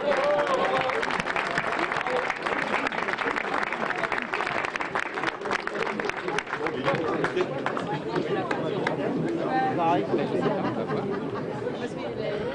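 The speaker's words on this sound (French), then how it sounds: "Allez, on peut les applaudir bien fort." A crowd at a Le Mans world cup competition applauds the winning team as it takes the stage, the clapping loud and continuous with lively chatter and voices mixed throughout.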